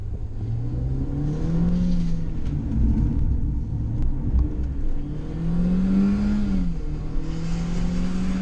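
Car driving at around 80 on Goodyear Eagle F1 Asymmetric 3 tyres, a steady loud road and engine rumble with engine tone rising and falling as it accelerates, recorded from inside with no talk.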